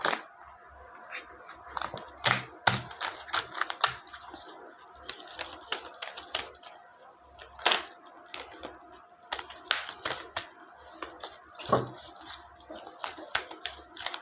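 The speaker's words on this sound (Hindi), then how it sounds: "अभी मैं कर रही थी ना शफल" Tarot cards being shuffled by hand, giving a run of soft, close riffling clicks and slaps at an irregular rhythm, fairly quiet against light room noise.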